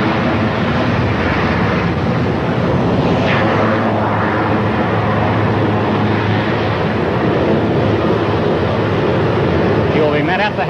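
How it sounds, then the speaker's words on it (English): The President's helicopter taxis to a stop on an outdoor landing area, producing a steady, loud, broadband engine and rotor roar with wind buffeting the microphone. "here is the President's helicopter taxiing to a stop"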